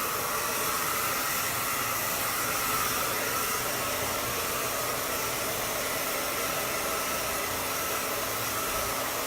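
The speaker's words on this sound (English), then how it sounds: "with blow drying it, wrapping it back and forth, what I'm doing is I'm encouraging movement to the hair" A hair dryer blows steadily while a bob haircut is dried, a loud, even, continuous whooshing hiss close by with no break.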